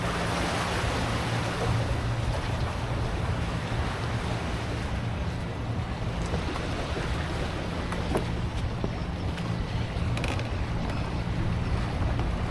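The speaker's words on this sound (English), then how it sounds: "No, it'd be like a little speedboat type of thing." A small speedboat runs across open ocean toward a floating restaurant at Vung Ro, its steady low engine drone blending with rushing water, waves and heavy wind buffeting the microphone throughout, with no talk.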